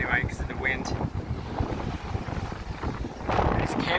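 Strong gusty wind buffets the microphone on a beach on Anmyeondo Island, South Korea, a constant low rumble with rushing surges and faint surf behind, while someone talks over it.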